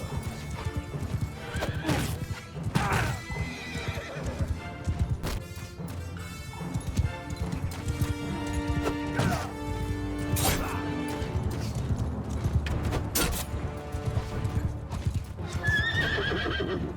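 A horse whinnies and gallops amid a medieval battle in modded Mount & Blade II: Bannerlord, loud hoofbeats and neighs mixed with crashing impacts and clattering combat, with no talk over it.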